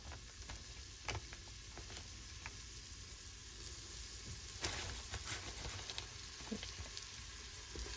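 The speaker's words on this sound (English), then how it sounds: "There's a sizzle." Soft, steady sizzling of meat frying in hot oil, dotted with small pops and crackles.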